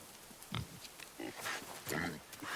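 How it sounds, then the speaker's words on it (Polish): Several short wild boar grunts and snorts from the God of War video game, fairly quiet and spread irregularly over a faint game background. "O, jest i dzik faktycznie, zobaczcie."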